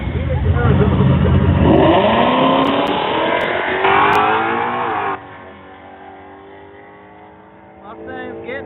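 A Ford Mustang drag racing car launches down the strip at a drag racing event, its engine roaring loud and sustained with rising revs, then fading abruptly as it pulls away, an announcer talking over it.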